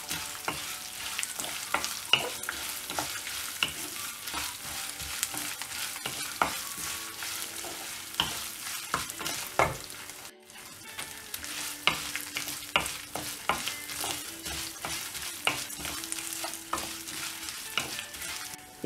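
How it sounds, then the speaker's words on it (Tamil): Chana dal, curry leaves and grated coconut frying in hot oil in a pan, with a steady crackling sizzle broken by frequent scraping stirs of a spoon, close and alone. "ஆட் பண்ணிட்டு இது நல்லா ஃப்ரை பண்ணிடலாம்"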